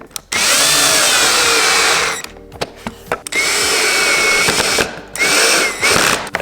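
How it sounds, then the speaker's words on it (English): A power driver whirs loudly in long bursts with brief pauses, driving silver screws into the top of a Tesla Model Y Juniper Performance front lip spoiler, with ratcheting clicks between runs. "to screw in 2 silver screws on the top first."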